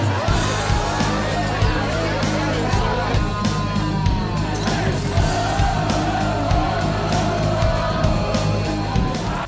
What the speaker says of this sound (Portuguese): Você tá numa gritaria aí